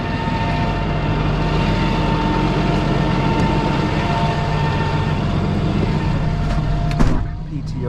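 A rollback tow truck's diesel engine runs at high idle with the power take-off engaged, a loud, steady, close droning rumble with a constant tonal whine, dropping briefly near the end.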